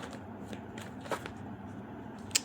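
Tarot cards are shuffled and drawn from the deck in soft, quick riffles and slides, with a light snap near the end, faint and close, with no voice over them.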